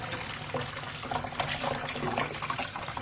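Bitter gourd peels rinsed under a running kitchen tap, a steady close rush of water with small splashes and trickles throughout.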